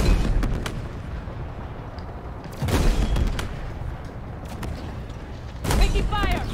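Gunfire and heavy blasts in the shooter Halo Infinite, arriving as a few loud bursts around two and six seconds over a steady rumbling battle bed, with voices talking in between.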